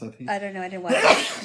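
A single sharp sneeze bursts out loud and close right after someone finishes a brief spoken remark.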